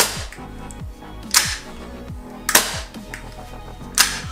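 Tokyo Marui Glock 26 gas blowback airsoft pistol firing three sharp, separate cracking shots with slide clack, spaced about a second apart, close and crisp against a quiet background.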